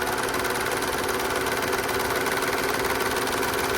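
Juki MO-600 serger running continuously while sewing a pearl stitch on light material, a fast, even mechanical whir and rattle at constant speed, close and steady, without talking.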